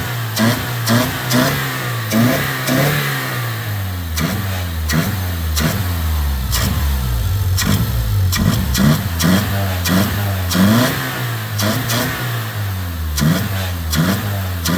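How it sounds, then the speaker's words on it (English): Car motors rev repeatedly in short rhythmic bursts, each throttle blip climbing and falling over a rough, slightly sputtering idle, loud and close throughout with no one talking. "Don't the motors sound good?"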